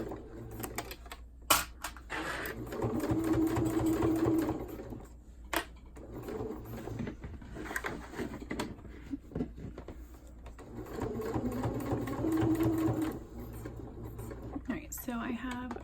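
A home sewing machine top-stitches a cloth diaper in two close, steady whirring bursts separated by pauses, with someone talking throughout and small clicks of handling fabric.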